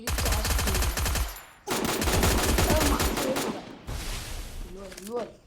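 Rapid automatic gunfire in a video game, long dense bursts of close, loud shots separated by a brief pause, with a few whooshing effects near the end.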